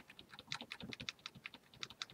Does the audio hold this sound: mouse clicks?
yes